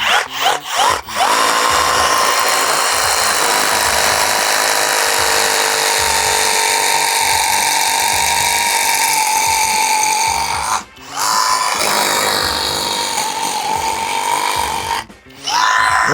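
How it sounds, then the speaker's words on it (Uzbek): A cordless rotary hammer drills into a large concrete block, a loud steady grinding hammer that runs almost continuously, dropping out briefly twice as the trigger is released. "Perforatorimizni sverlo qo'yib, sizlar bilan ham perforator, ham отбойный rejimni tekshirib beramiz."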